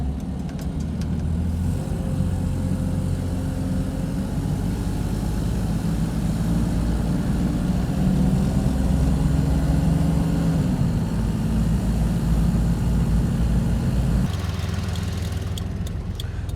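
1988 Toyota FJ62 Land Cruiser driving up a street, a steady low engine drone with gentle rises in pitch as it accelerates, heard close from inside the cabin with no talking.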